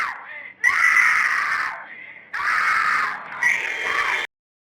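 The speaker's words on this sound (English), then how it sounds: "But listening to it, it's just all screaming." Screaming from the 1974 horror film The Texas Chain Saw Massacre: loud, sustained shrieks in three long bursts separated by short gaps, close and harsh, with no other sounds around them.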